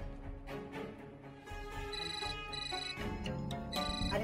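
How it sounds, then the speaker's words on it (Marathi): A mobile phone rings with a repeating melodic tone, steady and moderately loud indoors with no talk over it. "अरे तुझा फोन वाजतोय,"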